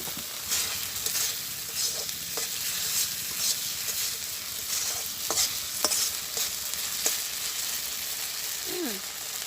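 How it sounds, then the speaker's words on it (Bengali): Ground spice paste with salt being stir-fried for a village-style fish curry: a bright, continuous sizzle with repeated scraping strokes of a spatula, close and steady throughout. "মশলাটাও কষানো হয়ে গেছে অনেক"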